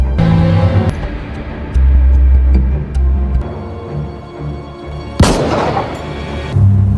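A gunshot in a mobster revenge film scene: a sudden loud, sharp crack stands out late in a noisy, shifting stretch of low rumbling sound.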